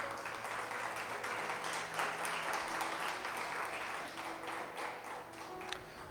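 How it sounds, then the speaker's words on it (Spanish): A church congregation claps together for the Lord during a Spanish-language sermon, with dense, steady applause of many hands filling several seconds and sharp individual claps standing out now and then. "Dele palmas al Señor."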